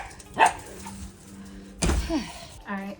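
Pet dogs bark in short sharp bursts before feeding, a few separate yips and barks close by with a quiet gap between them.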